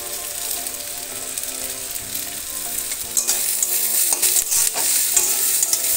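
Onions sizzle steadily in a pan with salt for a taro-leaf dish, a spoon stirring and scraping through them in bursts toward the end; close and fairly loud, no talking.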